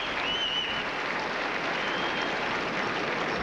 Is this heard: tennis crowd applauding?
yes